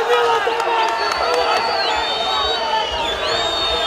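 Spectators at an obstacle course contest cheer and whoop continuously, a dense crowd roar with high shouts rising over it.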